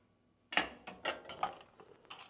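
Metal tongs clink and scrape against a pot several times in quick succession while fishing out shrimp from a cacciucco fish stew, close and fairly quiet after a moment of silence.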